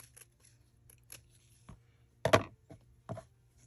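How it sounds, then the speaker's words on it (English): Scissors snipping through fabric along an edge, a few quiet, sharp cuts spaced irregularly with one firmer snip in the middle, close and alone. "we'll go ahead and cut that along this edge"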